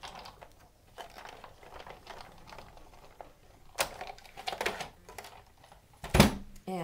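A Big Shot die-cutting machine is cranked to run a cutting pad sandwich with stamped card through, giving soft rolling mechanical rumbles and a few sharp clacks, ending with a loud crank burst near the end.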